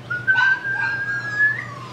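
A five-week-old puppy whimpers close by, one long, thin, high whine that wavers and holds for over a second, with a softer whine beneath it and no speech.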